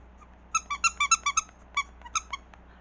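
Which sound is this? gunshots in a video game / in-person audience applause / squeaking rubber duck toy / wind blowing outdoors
squeaking rubber duck toy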